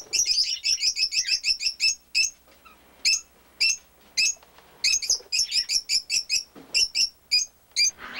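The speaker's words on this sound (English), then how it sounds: "It's 2 lovebirds down there" Two pet lovebirds chirping in rapid bursts of bright, high tweets, close and fairly loud, with short pauses between trilled runs and no talk.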